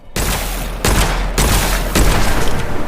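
Rapid bursts of shooter-game gunfire from Witchfire crack out in several loud, sharp volleys, one after another, with no talking.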